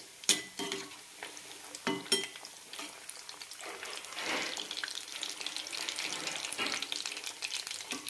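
Soya chunk balls fry in hot oil over a medium flame, with a steady close sizzle and sharp popping crackles scattered through it. No voices are heard.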